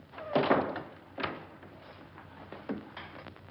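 A door being locked indoors, several faint clunks and thumps at intervals in a quiet room.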